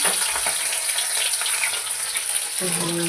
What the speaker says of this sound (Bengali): কালকের একটা মাছ আছে, সেটাই ভাজা হবে।